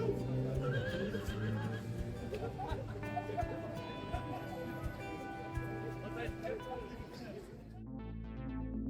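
A horse whinnies amid a busy outdoor crowd of tourists at Horse Guards in London, with people chattering and hooves clopping, before the noise cuts to a brief low rumble.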